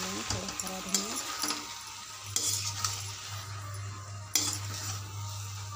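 Capsicum and potato curry being stirred in a pan, with soft scraping and a few sharp spoon clinks against the metal over a low sizzle and a steady background hum, while a voice talks in between.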